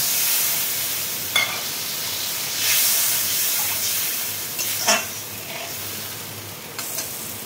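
Water poured into a sizzling hot curry in a pan, a loud close hiss and steamy spatter with a few sharp bursts and stirring knocks, no speech.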